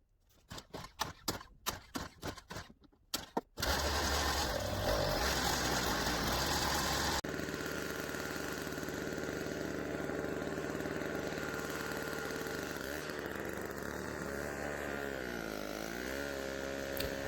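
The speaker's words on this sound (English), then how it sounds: "I'm using the small snow blower, and it's working fine" A small 21-inch Yard Machine MTD snowblower roars steadily after a few short sputtering starts, its engine running loud and close without a break through the rest of the stretch.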